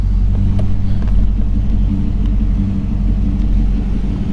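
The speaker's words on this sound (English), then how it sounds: "Let it hear it run." A ZZ4 V8 engine in a 1940 Ford Deluxe Tudor idles steadily with a deep, loping rumble, close and loud, with no talking.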